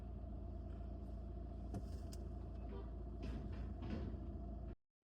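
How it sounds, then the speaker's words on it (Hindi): A Mahindra car's engine mounting fault heard from inside while driving: steady low engine and road rumble with intermittent clunks and knocks, ending abruptly in silence. "इंजन माउंटिंग की आवाज है।"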